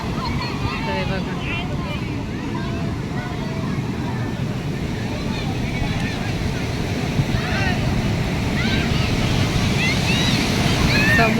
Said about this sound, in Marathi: समुद्र बघा